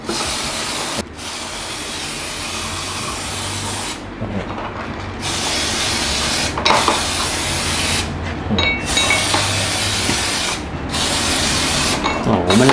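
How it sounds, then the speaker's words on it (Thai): Cleaner spray is blasted onto surfskate bushings and nuts, a loud, steady hiss broken by a few short pauses between bursts. "ตัวนี้สามารถฉีดได้ทั้งบูชชิ่ง น็อตอะไรพวกนี้ได้หมดเลยนะครับ"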